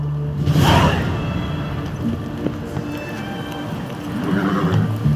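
Roach the horse in The Witcher 3 lets out a loud close whinny, then hooves clip-clop at a run, with a second neigh near the end.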